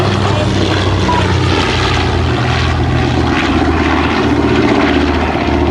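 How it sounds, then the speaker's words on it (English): A B-25J Mitchell bomber's piston engines and propellers roar loud and steady at a naval air station air show, with a constant droning rumble throughout and no clear speech. "This beautiful B-25J Mitchell bomber Panchito"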